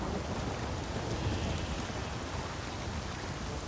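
Steady downpour of a storm in The Witcher 3, dense hissing rain with low rumbling thunder underneath, continuous and enveloping with no voices.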